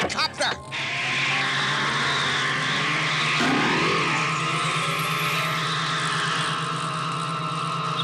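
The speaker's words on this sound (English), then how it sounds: "Go, go, gadget copter!" A cartoon gadget helicopter spins up and flies, a steady whirring rotor drone that holds for about seven seconds after a brief burst of clatter at the start, with a character's voice speaking over it partway through.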